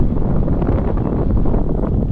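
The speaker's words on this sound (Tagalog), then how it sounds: "Ang grabe, lakas ng hangin." Strong wind buffeting the microphone during a motorcycle ride on a steep mountain back road, a continuous loud low roar of gusting air with no voices.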